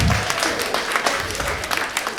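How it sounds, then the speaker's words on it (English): A comedy show audience claps steadily throughout, a dense, loud wash of applause with no voices on top. "All these Asians are clapping."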